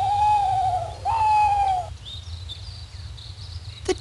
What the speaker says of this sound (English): The brown owl.